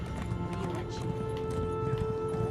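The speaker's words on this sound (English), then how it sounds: "Travel here on horse," Horse hooves clopping at a steady run in The Elder Scrolls Online, a continuous rhythmic patter of game hoofbeats under a humming music or ambience bed, with talk faintly present.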